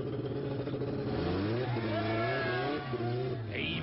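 A car engine revs and roars up and down in pitch, loud and close, with voices faintly in the background.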